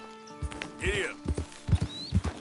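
Horse hooves in Red Dead Redemption 2 clopping in an uneven rhythm with a whinny and snorts, close and moderately loud, with faint game ambience behind.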